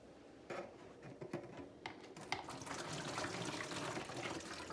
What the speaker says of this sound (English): Let's put it in our gallon jug.